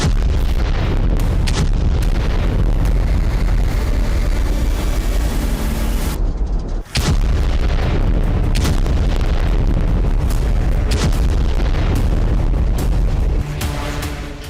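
Russian bomb attacks in Ukraine: loud, continuous rumbling explosions and heavy booms pile up with barely a break, a dense, overwhelming barrage with one brief sharp dip partway through.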